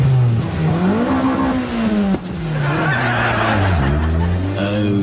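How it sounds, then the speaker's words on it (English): Car engine starts up and revs, its pitch rising and falling through several swells with a brief dip midway, loud and close, with some chuckling over it. "Start your engine"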